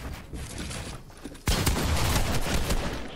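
A gold pump shotgun fires in a 1v1 video game match, a loud close blast that starts a dense burst of sustained gunfire and effects, with no talking.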